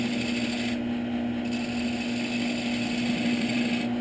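A hand tool cuts and rasps wood from a tenon in close rhythmic strokes over a steady electric hum, the scraping repeating evenly throughout.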